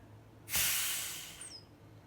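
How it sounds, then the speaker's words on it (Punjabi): A pressure cooker of sweet saffron rice vents a sudden loud burst of hissing steam that begins abruptly and tapers off over about a second, ending in a thin high whistle-like squeal, heard close with no talking. "ਆਪਣੇ ਆਪ ਇਹਦੇ ਵਿੱਚੋਂ ਸਟੀਮ ਨਿਕਲ ਜੇਗੀ"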